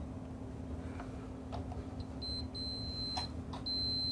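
An amp foot pedal switched off and on sets off short, thin electronic beeps that start partway through, faint and close, over a low steady hum.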